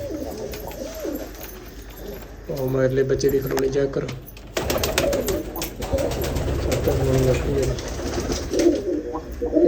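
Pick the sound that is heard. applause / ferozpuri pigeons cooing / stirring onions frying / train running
ferozpuri pigeons cooing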